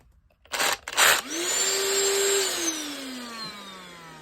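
A cordless drill fitted with a vacuum dust extraction attachment whirs up and runs steadily after a couple of brief bursts, with a rising then slowly falling motor whine, loud and close, no voices.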